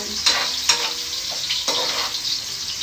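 Carrots fry in a pan for a Filipino beef kaldereta, a steady bright sizzle with a few sharp stirring scrapes and spatters standing out, close and fairly loud, with no talk.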